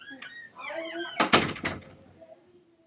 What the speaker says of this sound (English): can you close the door, baby?